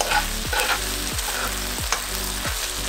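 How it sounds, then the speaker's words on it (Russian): Onion and ham frying in a pan with barbecue sauce, a steady close sizzle with several short scraping stirs at regular intervals. "И продолжаем все это обжаривать до вот такого красивого бурого цвета."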